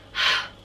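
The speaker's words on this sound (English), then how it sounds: "That was my dog snoring." A dog gives one short, breathy snoring snort up close, a single soft rasp that swells and fades in a moment.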